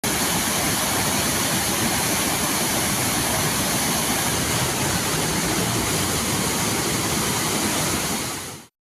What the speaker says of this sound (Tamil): பெய்த மழையால் அருவிகளில் தண்ணீர் ஆர்ப்பரித்து கொட்டுகிறது.